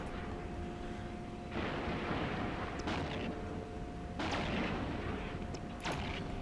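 Ship weapons firing in Eve Online: a few deep booming volleys land at intervals over a low constant hum, moderately distant and muffled.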